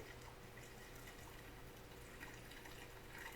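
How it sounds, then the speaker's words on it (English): A faint, continuous trickle of apple cider vinegar pouring steadily into a jar over goldenrod, soft and close, with no voices. "just simply pour your vinegar"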